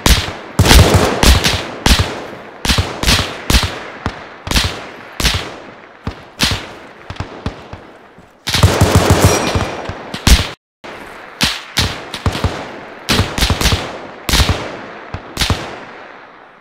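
Rapid bursts and single shots of gunfire ring out in a forest firefight in ArmA 3 IFA3, loud and close with echoing tails, coming in irregular volleys with brief pauses between.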